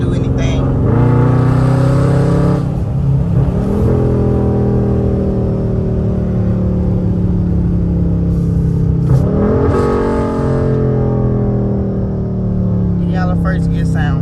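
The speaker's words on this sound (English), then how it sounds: "First gear sound." An SRT Mopar car engine revs in first gear, its loud, close pitch rising in two long pulls separated by a brief drop.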